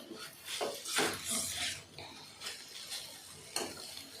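A spoon scrapes and clatters in a pan as bitter gourd pieces are sautéed, with irregular bursts of stirring noise and short gaps between strokes. A faint voice is heard under the stirring.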